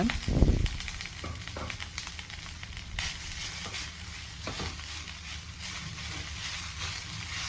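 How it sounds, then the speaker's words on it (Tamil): Mustard seeds and urad dal sizzle and crackle in hot oil in a pan, a loud dense frying hiss with a sharp burst at the start and steady popping throughout, no voices. "ஆயில் ஹீட் ஆனதும் 1/2 teaspoon கடுகு 1/2 teaspoon உளுந்து ஆட் பண்ணிக்கோங்க"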